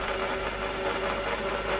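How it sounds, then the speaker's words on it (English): A pillar drill converted to ultra-slow speed with a big multi V-belt drive runs steadily, its motor jiggling on a poor pulley, giving a continuous, even mechanical hum and whir throughout. "The motor's jiggling around, but we know that pulley's not very good. But let's just see how it drills. And that drill is going round mighty slowly."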